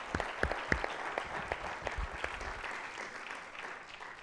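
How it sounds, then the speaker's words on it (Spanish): An audience claps at a Spanish science and sustainable-mobility awards ceremony. The applause is dense and steady, with sharp individual claps standing out early on, then thins slightly as it carries on at moderate loudness. "un aplauso"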